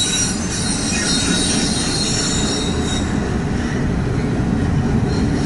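A Norfolk Southern or Reading and Northern freight train rolls past close by, with a continuous loud rumble of cars and a sustained high-pitched squeal of wheels on the rails throughout.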